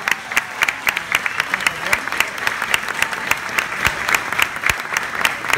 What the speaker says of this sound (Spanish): Aplauso para don Juan